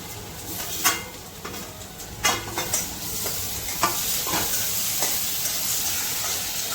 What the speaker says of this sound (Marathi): त्यात आपण टॅमॅटो टाकतोय.